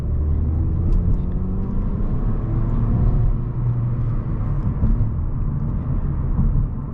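A 2017 Mazda 3 GT with the upgraded 2.5 liter engine, about 185 horsepower, pulling away from a right turn onto a street, a steady low engine drone and road rumble heard from inside the cabin.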